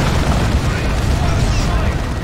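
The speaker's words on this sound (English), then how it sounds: "They're being hit by D-Cannon blasts." D-Cannon blasts from the Dawn of War II: Retribution strategy game hammer Terminators in dense, continuous booming explosions, loud and low-heavy throughout with no clear gaps between impacts.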